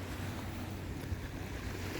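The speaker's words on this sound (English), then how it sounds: "you hear the waves?" Ocean waves wash onto the shore on a coastal walk near White Rock, a steady, soft, continuous rush with no voices and some wind.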